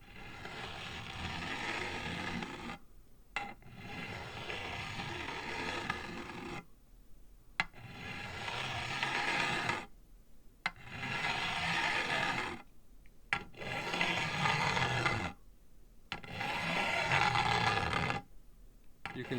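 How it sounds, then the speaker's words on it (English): File stroking across the frets of a Fender guitar fretboard laid on a flat surface, a series of long rasping passes with short pauses between them, close and fairly loud. "you can see that I'm filing all through here"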